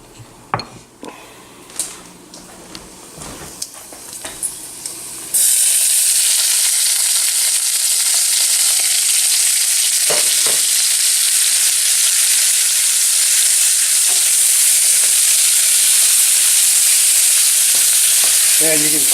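Spicy brown mustard and a dry spice rub stirred with onions in a hot pan, a few scraping and clinking stirs first, then a loud, continuous close sizzle with occasional utensil taps, no talking.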